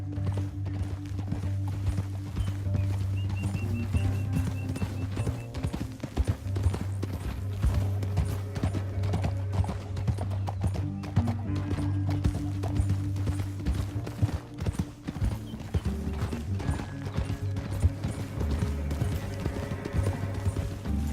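Horses galloping through a canyon in Red Dead Redemption 2, with steady, loud hoof clip-clop, a neigh now and then, and a music score running continuously underneath.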